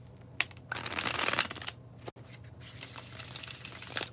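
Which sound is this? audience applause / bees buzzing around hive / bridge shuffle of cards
bridge shuffle of cards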